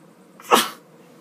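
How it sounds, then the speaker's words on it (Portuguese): A single sharp sneeze comes up close from a woman sewing fabric pieces for a cat litter box set, short and loud against near silence. "Vou espirrar, gente, peraí."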